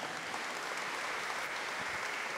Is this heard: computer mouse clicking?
no